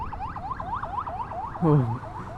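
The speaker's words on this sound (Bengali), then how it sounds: "এটা অ্যাম্বুলেন্স ভাই" An ambulance siren on the road, heard from a Hero Xtreme 125R motorbike, wails in a rapid rising-and-falling cycle, loud and close throughout. A short, harsh horn-like blast cuts in near the end.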